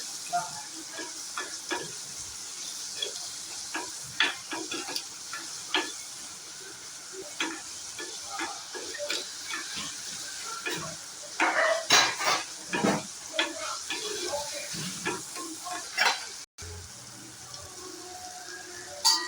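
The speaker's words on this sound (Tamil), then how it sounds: "இதை அப்படியே மூடி வைக்கலாம் நல்லா வதங்கட்டும் சுண்டக்காய் தக்காளிலாம்" Turkey berries and tomatoes sauté in a pan with a continuous close sizzle, punctuated by frequent spatula scrapes and clacks against the pan, briefly cutting out near the end before resuming; no one talks.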